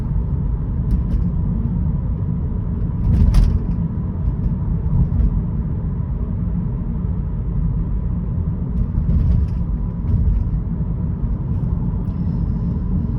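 A 2012 BMW 118i M Sport with a 2.0-litre engine and Steptronic automatic cruises at 35 mph, giving a steady low interior road rumble and engine drone throughout, with a couple of faint clicks and no voices.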